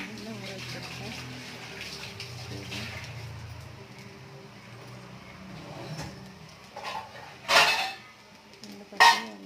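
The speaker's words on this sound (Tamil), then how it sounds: "குட்டி குட்டியாக போண்டாவாக போட்டாச்சு." Small urad dal vadas fry in hot oil with a soft, continuous sizzle, followed by two sharp utensil clatters near the end.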